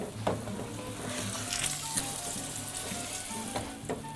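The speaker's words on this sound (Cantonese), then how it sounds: "咁咧就大約咧再煎佢2至3分鐘" Fish pan-fries in hot oil for a Fish Assam dish, with a steady soft sizzle and occasional crackling pops and light utensil clicks, close and quiet, with no talking.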